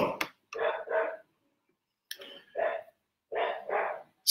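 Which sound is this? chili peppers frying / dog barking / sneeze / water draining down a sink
dog barking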